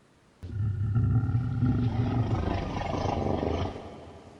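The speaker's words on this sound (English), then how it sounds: "A low growl carried along the hallway to the kitchen." A deep, rumbling animal growl rises abruptly and holds steady for about three seconds before fading, loud and close with no other sounds.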